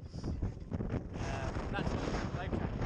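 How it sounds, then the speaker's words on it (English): Strong wind gusting around 60 knots at a marina buffets the microphone, with a steady broadband roar and rumble that swells and eases continuously for the whole stretch. "it's just pure wind noise"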